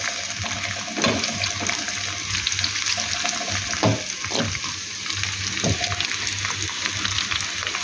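Garlic sautéing in oil in a pan for a vegetable dish, a steady close crackling sizzle running throughout, with a few scraping stirs of a utensil on top.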